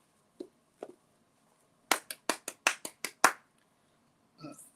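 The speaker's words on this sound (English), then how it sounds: "I give him a clap." A single person claps hands about eight times in a quick burst, sharp and close, after a couple of softer taps. Each clap is crisp against an otherwise quiet room.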